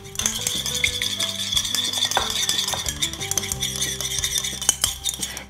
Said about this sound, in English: So you don't have to whisk it for very long, but the more you do, it turns into this lovely sort of lime green emulsion